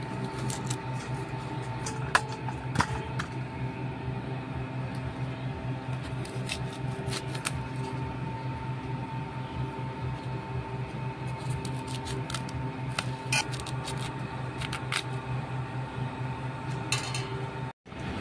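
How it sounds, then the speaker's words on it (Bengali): Vegetables being cut into large pieces with a knife for a home-cooked lunch, giving faint, irregular clicking chops against a steady background hum, with no talking. "প্রথমে এটা বড় বড় করে কেটে নিব।"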